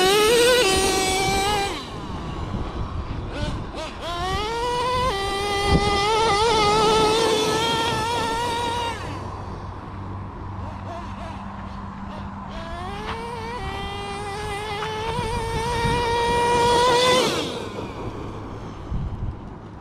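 Traxxas T-Maxx 3.3 nitro RC truck tearing across dirt, its tiny engine screaming and rising in pitch through repeated revving bursts with brief pauses between runs, fairly close and loud.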